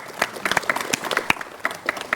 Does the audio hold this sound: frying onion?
no